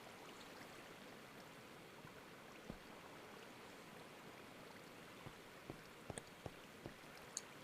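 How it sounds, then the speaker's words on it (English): A quiet, steady wash of flowing water in a video game runs throughout, with a few faint clicks and taps scattered near the end. "I hear water though."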